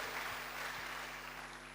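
Church congregation applauding during a sermon, a faint, steady wash of clapping from a crowd, distant and even, lasting under two seconds.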